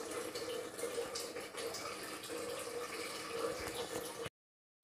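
Water poured into a pot of Kerala avial, a steady splashing, trickling stream lasting about four seconds before cutting off to silence.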